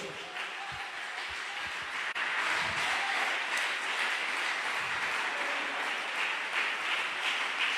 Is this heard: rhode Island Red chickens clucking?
no